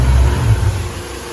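A Foxbody Mustang with a Flowmaster exhaust and turn-down tips gives a loud, deep rumbling rev up close, then quickly settles lower.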